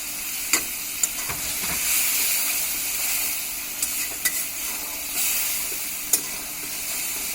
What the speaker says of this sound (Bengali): এখন যে বেগুন ভাজাটা আছে এর মধ্যে আগে বেগুন ভাজাগুলো আমরা দিয়ে দিব এই কষানো মশলার মধ্যে।